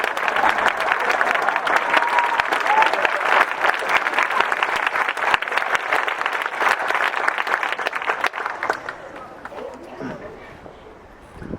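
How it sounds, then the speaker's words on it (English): Audience applause at a graduation ceremony, a dense, steady wash of clapping that holds loud for about eight seconds before thinning and fading near the end. "Can we please acknowledge all of those who helped shape you into who you are today with a hearty"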